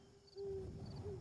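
An owl hoots as part of the ambience in the video game Eternal Return, giving a faint, steady tone over low background rumble.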